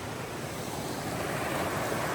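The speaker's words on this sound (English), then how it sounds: "But this is a pretty nice little river." A small river flows beside the Appalachian Trail, a steady broadband rush of moving water mixed with some wind, constant and moderately loud with no talk.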